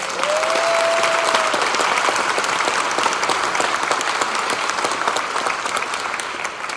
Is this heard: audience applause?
yes